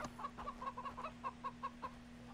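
Chickens clucking in the Far Cry 3 jungle, a string of about ten short, evenly spaced clucks at moderate distance over a steady low hum, with no voices.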